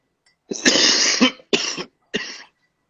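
A person gives a cannabis cough hard three times up close, one long harsh hack followed by two shorter coughs with brief pauses between them.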